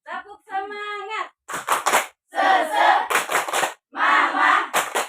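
A high-school class chants and claps in unison in the rhythmic 'tepuk semangat' clapping routine, delivered as loud group bursts with sharp claps between short pauses, after a teacher's brief sung cue.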